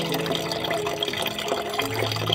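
Water poured from a mug onto potting soil in a plant pot: a steady splashing, gurgling pour throughout, close and moderately loud.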